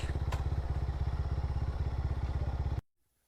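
Motorcycle engine chugging close by on a steep hill road near Konglak hill in Sajek, a steady, rapid thumping beat that cuts off abruptly into silence.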